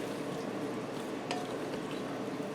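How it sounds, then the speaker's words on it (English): Garlic butter sauce being stirred over shrimp with steamed broccoli, a soft low bubbling and scraping close by, with one brief clink of a utensil midway. "I'm just going to give this a quick stir."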